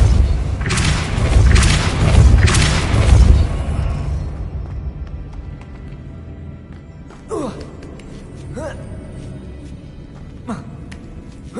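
A Depulso spell blast in the video game Hogwarts Legacy lands as a few heavy booming thumps early on, then fades to quieter ambience broken by a couple of soft whooshing hits.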